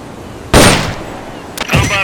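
Weapon fire in Metal Gear Solid Peace Walker: a loud broadband burst near the half-second mark, then a sharper crack and a second burst toward the end, loud and close with no talk.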